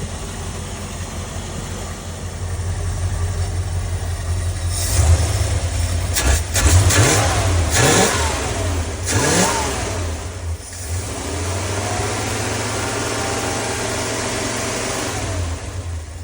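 A 1975 Ford E100 van engine idles steadily, then revs up several times in short bursts before settling back to a low, even idle; close and fairly loud.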